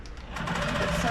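Sewing machine tacking down a stitch on a quilted June Tailor shopping tote, a steady close mechanical whir that builds quickly and holds for about a second, with a voice talking over it.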